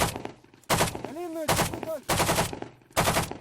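Bursts of automatic gunfire crack loudly in several rapid volleys at a military firing range where called-up reservists train, with a brief shouted voice between them, nearby and echoing outdoors.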